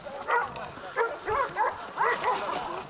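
Hunting dogs bark and yip during a hog hunt, with repeated excited calls in uneven bursts at moderate distance, forming a rough, continuous chorus.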